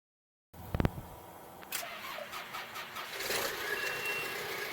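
A truck engine at a building site, with the truck stuck, revs and runs over steady rumble after a few sharp knocks at the start, mid-distance with no talk.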